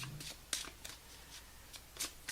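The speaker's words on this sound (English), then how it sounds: "One more shuffle off the top of the deck." A deck of tarot cards being shuffled in short riffling bursts, several quick rustles spaced across the moment, faint and close, with no talk over them.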